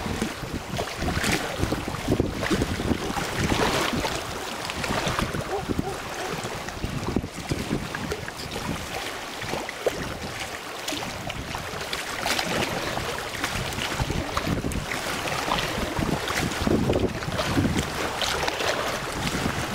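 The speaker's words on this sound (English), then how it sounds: "Get some waves from that boat splashing up my shorts." Outdoors by the water, wake from a passing boat splashes against the shore under steady wind buffeting the microphone, with continuous rushing surf throughout and no talking.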